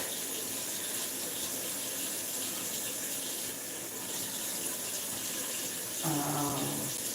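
Tap water runs steadily from a faucet into a sink while someone washes their face with turmeric soap, a continuous close splashing that swells slightly near the end.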